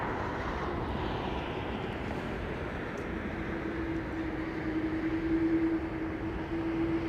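An airliner lands at London Heathrow, its reverse thrust a steady distant roar with brakes whining faintly underneath, heard from a spotting position with no voices.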